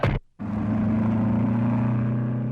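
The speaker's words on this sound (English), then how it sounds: "Lois drives the taxi at top speed." A taxi driven flat out as a radio-drama effect: after a brief cut to near silence, a loud, steady engine drone with a deep, even hum holds without break to the end.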